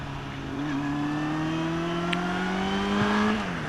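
Honda CB400 Super Four motorcycle engine revving up with VTEC kicking in, a steady rising drone that climbs in pitch before easing off near the end, heard close and alone.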